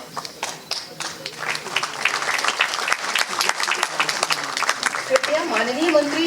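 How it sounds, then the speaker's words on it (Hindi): An audience at a formal ceremony applauds to welcome the deputy chief minister, loud sustained clapping from many hands that builds and continues, with a voice speaking over the end. "तालियों से माननीय उप मुख्यमंत्री जी का स्वागत।"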